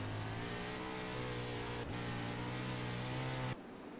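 Wingless 360 sprint cars race on the Eldora dirt oval, a loud sustained engine scream at full throttle with steady harmonics, one car's drone briefly dipping near the middle before the sound abruptly thins near the end.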